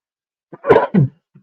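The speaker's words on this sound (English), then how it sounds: "hold on, I got to sneeze" A single sharp sneeze: a quick breath in, then an explosive burst, with a short voiced sound trailing right after.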